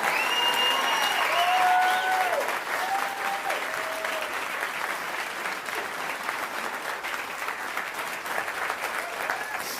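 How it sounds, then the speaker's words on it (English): Large audience at Angel Studios' Illuminate 2024 event giving Prince Daniel a big round of applause, loud sustained clapping with cheers and whistles early on, slowly easing but continuing throughout. "Please give a huge round of applause for him."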